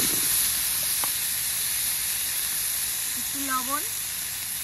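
Cut potatoes frying in leftover fish-frying oil, giving a steady loud hiss and sizzle throughout while someone speaks briefly.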